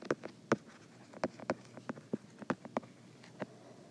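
Pen or pencil writing by hand on paper while working a math expression, giving a series of short, close scratchy strokes and taps in an irregular rhythm, fairly quiet, with no talking.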